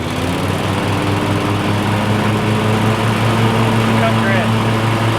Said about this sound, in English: So to run the mower deck, you're just going to pull your PTO lever up. That gets your mower running.